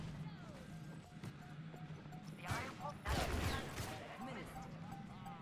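Gunfire and sharp impact bursts in a hero shooter match, a few quick shots then a louder cluster of crashing hits, heard under ongoing voice chatter.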